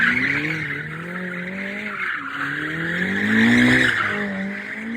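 A roughly $1 million luxury car drifts in Lagos, its tires skidding and squealing in long wavering wails over a steady engine roar, swelling louder near the end with no voices.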